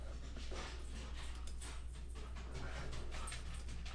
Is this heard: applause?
no